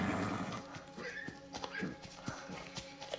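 A horse in a TV drama scene gives soft, repeated hoof clops and snorting movement sounds against background noise and music, with voices faintly present.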